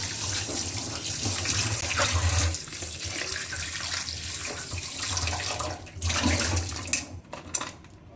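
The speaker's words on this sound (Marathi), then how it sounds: "ते नळाखाली बेसिनमध्ये साफ करून घ्यायचे" Tap water runs into a basin as market-bought crabs are washed under the faucet, a steady splashing stream with occasional clatter of shells and utensils near the end.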